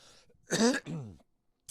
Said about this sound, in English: I have a cough like a smoker